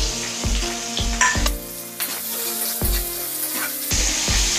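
Onions sizzle in hot oil with garam masala and bay leaf for a mutton curry, a close, steady crackling hiss broken by several heavy thumps and scrapes of stirring.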